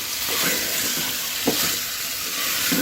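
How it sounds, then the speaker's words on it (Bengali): Duck meat stir-fried with spices in a pan, a steady even sizzle with a few soft stirring scrapes rising now and then; no speech. "হাঁসের মাংসগুলো দেওয়ার পরে মশলার সাথে মিক্স করে খুব ভালোভাবে কষিয়ে নেব আমি 7 থেকে 8 মিনিট।"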